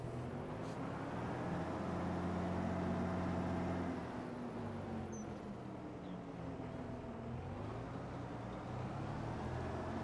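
Case tractor with a 600-horsepower engine in Farming Simulator 25, a steady low engine drone running continuously at moderate level, with a slight dip in load partway through.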